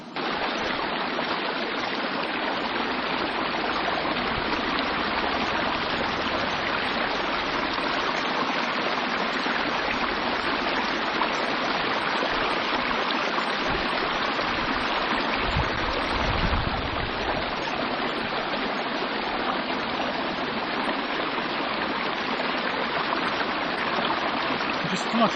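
Water rushes steadily past a hiking water filter being flushed outdoors in hill country, a loud, dense, unbroken hiss of flowing water that holds constant throughout.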